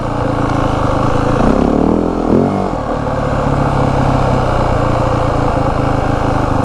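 A 2025 Yamaha WR 450F dirt bike engine lugs at low RPM in third gear, a loud, steady, close thumping drone with a brief dip and recovery in pitch.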